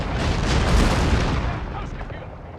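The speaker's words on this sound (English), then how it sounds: "Artillery again just carving through these Musketeers, really nice to see." Artillery fire in the video game Pike & Shot Total War, with a heavy cannon boom swelling into a rolling, crackling rumble that peaks early and then slowly fades away.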